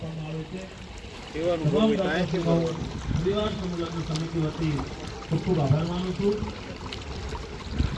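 Water runs in a continuous rushing flow while people talk over it nearby.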